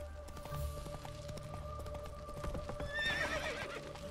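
Horse hooves clip-clop in a steady run through a Witcher 3 game scene, joined near the end by a loud, close whinny, with ambient game music underneath.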